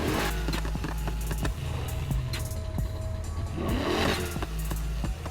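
A 1965 Ford Mustang engine in Need For Speed Heat rumbles and revs steadily, with rising and falling pitch as it accelerates and shifts, accompanied by scattered clicks and game effects.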